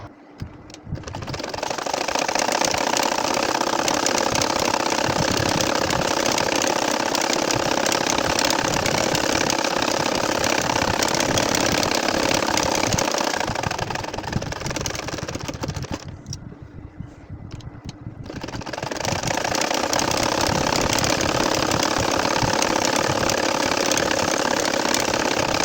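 A sewing machine stitches a nakshi kantha quilt in a long steady whirring run, stops briefly, then starts again with the same even mechanical rattle, close and with no voice over it.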